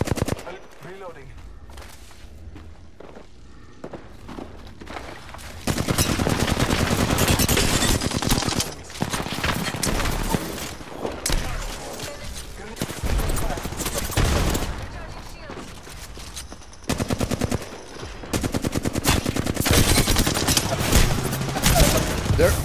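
Dense gunfire from a first-person shooter game in ranked play, with bursts and rapid automatic volleys running through most of the stretch, loud and close, with a quieter lull early on and brief gaps between exchanges.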